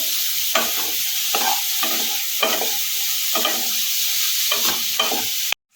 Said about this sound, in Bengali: পিস ব্রোকলিটা অ্যাড করে দিলাম আবারও এক মিনিট মতো নেড়ে নেব